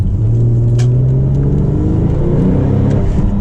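A Porsche 997 Turbo Convertible engine accelerating with a steady low rumble and rising harmonics, loud and close, continuous throughout.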